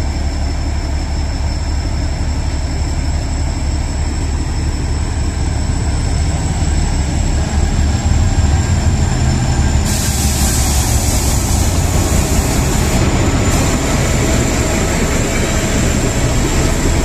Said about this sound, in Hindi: भाई यहाँ पे क्रॉसिंग के लिए ट्रेन रुकी है